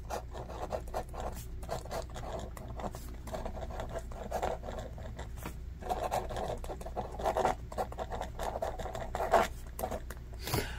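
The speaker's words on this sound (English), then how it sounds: "It does kind of scratch the paper a little bit" A fine-point MyLifeUNIT gel pen writes on paper in close-up, with soft continuous scratchy strokes and small pauses between words, under a low steady background hum.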